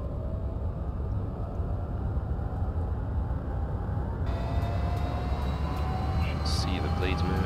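A Huey helicopter engine starts up in the DCS flight simulator, a steady low turbine drone that rises as a whine joins in partway through, with a voice talking over it.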